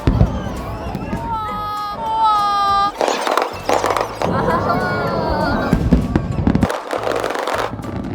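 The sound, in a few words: fireworks display exploding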